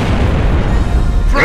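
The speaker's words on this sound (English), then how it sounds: "Throwing frag." A frag grenade detonates in the Gears of War video game, a loud, deep continuous boom filling the whole moment with a brief higher burst at the end.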